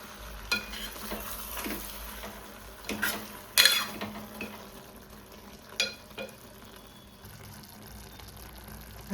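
Eggplant, mango and cashew curry with fresh coriander stirred in a pan, giving a soft, low sizzle under a few scattered scrapes and clinks of a spoon, with one louder clatter midway.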